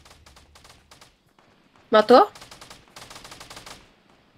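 A loud burst of rapid gunfire in the Fortnite Battle Royale video game, one short volley lasting about half a second, with players talking in the game before and after it.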